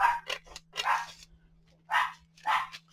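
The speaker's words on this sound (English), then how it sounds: "And I'm sorry about the dog." A dog barks indoors during a crafting session, a few sharp loud bursts spaced irregularly across the moment, with a steady low hum underneath.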